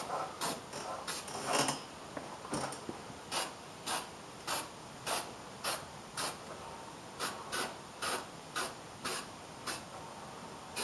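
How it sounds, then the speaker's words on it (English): Weld-through coating is sprayed from an aerosol can onto the weld areas of a panel in a series of short, evenly spaced hissing bursts. The bursts are faint and close, with no talking. "I'm just spraying my weld areas just the same as you just saw"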